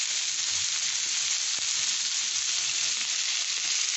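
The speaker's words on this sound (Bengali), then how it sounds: "আর এই পাশটা আমি ভেজে নিচ্ছি ঘুরিয়ে" Chicken reshmi kebab fries in a hot pan as it is turned, giving a constant close sizzle, a dense hiss with a faint knock partway through.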